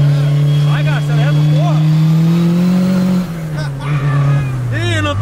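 Turbocharged VW Gol engine revving hard and accelerating, a loud sustained drone that climbs in pitch, dips near the three-second mark, then rises again, with people talking excitedly inside the car.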